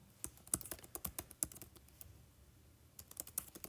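Fast, uneven bursts of keystrokes on a computer keyboard while an essay introduction is typed for a writing lesson, close and crisp, with a short lull midway before the clicking resumes; no talking.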